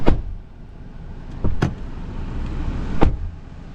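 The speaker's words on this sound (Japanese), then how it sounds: "でドア閉めた音もこんな感じ。" Doors on a 2020 Toyota Hilux pickup truck shutting: three separate solid thuds at about a second and a half apart, close and fairly loud, each ending quickly over a quiet background.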